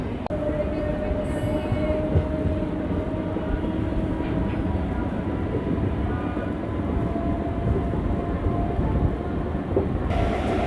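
A MEMU passenger train runs at full speed, making a steady, close, loud rumble with rattling carriages and rushing air. It continues without a break, with no clear talk.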